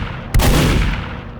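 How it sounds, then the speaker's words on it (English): A scattergun blast rings out as a loud, sharp report, close and alone, then trails off into a long rumbling decay. "2 clean shots from a scattergun."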